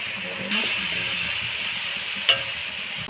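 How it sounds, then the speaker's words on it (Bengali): Tomato masala sizzling and frying in a pan for a prawn curry, stirred with a few scraping clicks of a spoon, steady close hiss alone without talk. "তো একটু ভালো করে ভেজে নেব যতক্ষণ না টমেটোর কাঁচা গন্ধটা কেটে যায়।"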